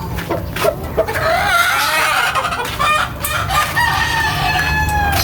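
A fighting rooster being conditioned, clucking and crowing loudly and close by in repeated bursts over a steady background hum.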